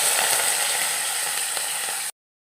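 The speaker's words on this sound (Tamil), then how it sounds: "தாளிப்புக்கு எண்ணெய் ஊற்றி சோம்பு ஒரு 4 சோம்பு போட்டுக்கோங்க" Fennel seeds dropped into hot oil for tempering a South Indian dish, giving a steady, bright, close sizzle that cuts off abruptly.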